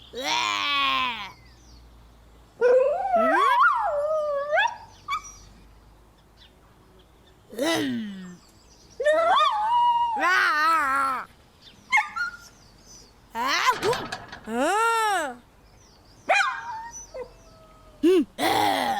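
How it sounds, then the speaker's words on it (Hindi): A dog in an animated cartoon whimpers and whines, with repeated high, wavering cries in short bursts separated by pauses, fairly loud and close, with no talk. "कुत्तों को पत्थर मारते हैं।"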